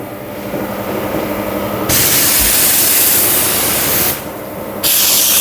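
Water sprayed from a pressure washer onto a car's painted body during a gloss-coating wash, a loud close hiss that starts quieter, surges into a powerful jet, drops briefly and resumes.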